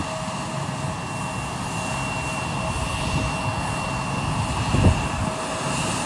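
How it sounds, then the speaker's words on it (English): An Air Canada airliner at Ottawa International Airport produces a steady, broad jet engine roar with a faint tonal whine, sustained at an even level for several seconds with a brief rumble near the end. "Aeroplanes at Ottawa International Airport, Canada."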